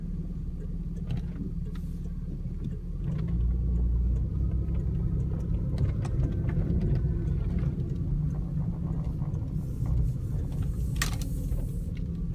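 A turbocharged Chrysler Mopar car, a Reliant, Turbo LeBaron or New Yorker, revs while driving, its steady low engine rumble swelling louder about three seconds in and holding, with no talking.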